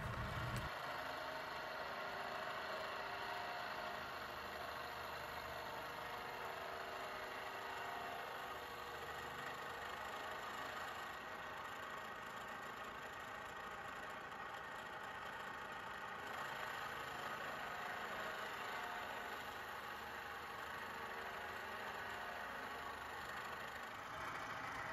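A milling machine cuts the girdle caps for a VAST AZ girdle on an Audi S4, making a steady, continuous machining hum with a high whine that stays even for the whole stretch, with no talk over it.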